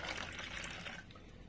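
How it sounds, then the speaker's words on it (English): Water is poured from a stirred container back into a jug during a steam shoe-shrinking experiment: a steady, close, splashing pour fills the whole moment before easing slightly at the end. "I'm going to pour that back into the jug"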